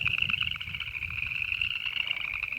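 Frogs croaking at a pond on a morning walk, a dense, loud, continuous high-pitched chorus with rapid pulsing, close by and unbroken for the whole stretch.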